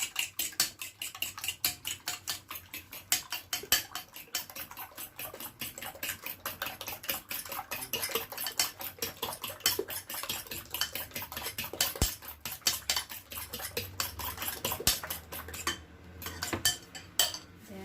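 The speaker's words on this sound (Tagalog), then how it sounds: "Let's beat it first. 2 eggs." Two eggs beaten for a cassava cake, a fork or whisk clicking rapidly and steadily against the bowl for the whole stretch, close and fairly loud with no talking.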